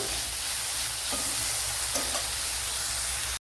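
Papaya cutlet mixture with chopped tomato sautéing in a pan, a steady close sizzle and hiss with a few soft stirring scrapes, no voices.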